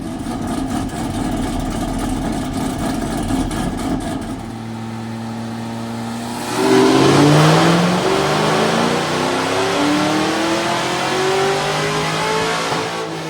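A tuned Cadillac on a dyno idles roughly, then the engine revs hard and climbs in a loud, rising pull that holds for several seconds, with no talk over it.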